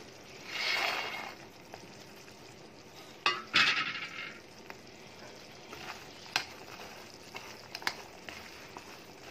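Phool makhana (fox nuts) tumbling into a pan for a candy, a soft rattling rush early on followed by a louder burst of clatter and a few scattered clinks and taps, close and moderately quiet, no talking.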